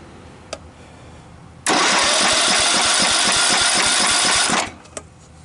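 Engine of a Cub Cadet or DR mower snow blower turning over, a loud rapid chugging crank lasting about three seconds with a faint click before and after, heard close with no talk.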